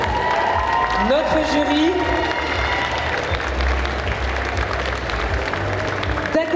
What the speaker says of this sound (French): Dans tous les cas, vous pouvez applaudir une dernière fois nos candidats.